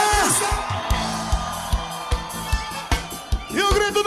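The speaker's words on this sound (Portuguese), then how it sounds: "E o grito dos gremistas!" Grêmio fans shout and whoop together at the Oktoberfest in Igrejinha, Rio Grande do Sul, with a loud cheer at the start and another near the end over a steady thumping beat from a live band.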